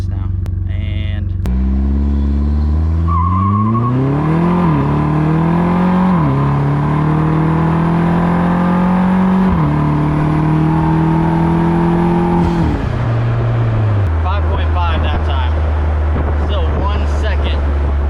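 A Vanderhall three-wheeler accelerates hard through a timed run, its engine rising in pitch through several gear changes before backing off, loud and close with heavy wind buffeting throughout.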